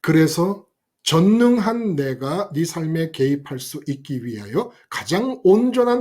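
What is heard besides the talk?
No everyday noise stands out behind the speech.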